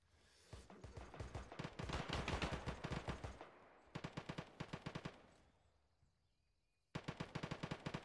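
Bursts of automatic gunfire in a video game firefight during a downhill ambush in a jungle, with rapid rattling volleys, a pause, then more sharp bursts, loud and close with no talk over them.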